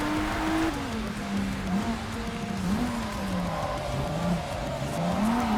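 A car drifts in the racing video game JDM, its engine droning loudly and steadily while the pitch wavers and dips, with faint tire squeal mixed in and no voices.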